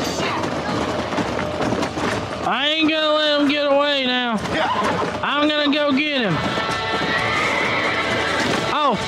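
A horse in the Western video game Red Dead Redemption gives two long, loud neighing whinnies in the foreground, with hoofbeats and game noise running beneath.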